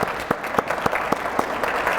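An audience at a Dr. Martin Luther King Jr. leadership award program claps for an honoree, a brief burst of close, fairly loud handclaps with distinct individual claps standing out.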